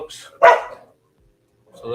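A dog gives a single sharp, loud bark close by, followed by a stretch of near silence and then a voice.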